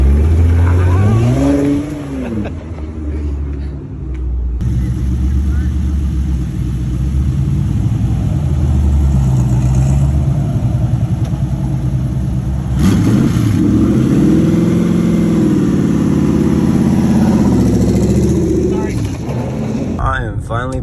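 A Toyota A90 Supra accelerates hard from a launch, its engine climbing through rising pitch sweeps with gear changes, loud and close, while people talk over it inside the car.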